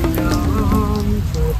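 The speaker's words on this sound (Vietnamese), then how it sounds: "Trời thì đang mưa." Rain falling steadily outdoors during filming, a continuous hiss of drops on surfaces heard close, with faint tonal sounds mixed in beneath.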